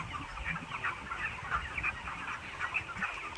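Domestic chickens on a Bangladeshi farm cluck softly and repeatedly, a quiet overlapping chatter of several birds with faint background noise.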